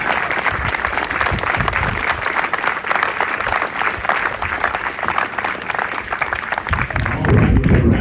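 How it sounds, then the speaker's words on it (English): Audience applause for Murl Bowen, America's all-time winningest high school football coach, a full, sustained round of clapping from a crowd that continues steadily and swells slightly near the end. "let's clap a lot as we go to clap for Murl Bowen"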